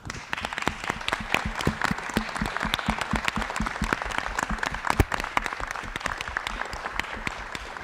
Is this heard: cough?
no